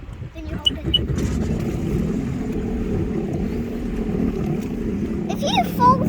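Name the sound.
Sea-Doo Spark Trixx jet ski engine starting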